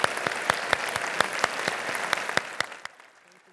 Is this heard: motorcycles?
no